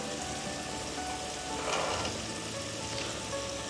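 Green peas are dropped into masala cooked in ghee and fry with a dense, even, crackling sizzle, close and continuous, with a brief swell of stirring in the middle.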